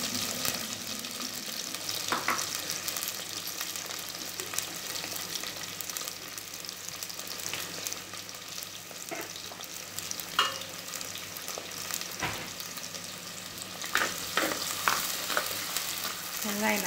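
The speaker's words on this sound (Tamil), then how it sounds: "வெங்காயம் அப்படியே வதங்கட்டும்" Onions sautéing in a pan of hot oil for a river catfish curry, a steady broadband sizzle with occasional spatula scrapes and stirring clicks, close and continuous, no voices.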